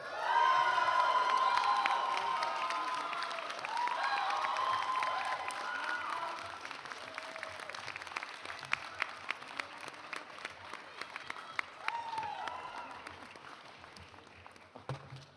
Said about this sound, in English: Let's have a big round of applause for the class of 2024.